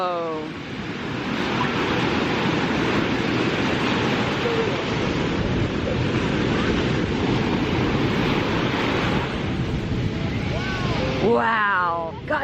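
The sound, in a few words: big ocean waves at Santa Monica Pier at night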